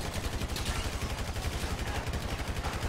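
Rapid automatic gunfire from GTA 5 chatters continuously at a steady rhythm, fairly quiet and slightly distant, with no pause across the whole stretch.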